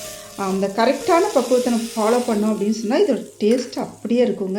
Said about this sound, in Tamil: ஒரு சடசடன்னு ஒரு சத்தம் கேட்கணும்.